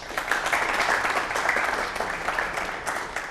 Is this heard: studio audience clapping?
yes